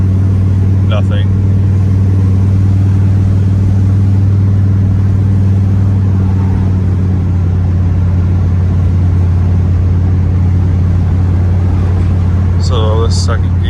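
A turbocharged Jeep cruising on the highway in second gear gives a steady, loud low drone of engine and road noise throughout, with a brief clicking sound near the end.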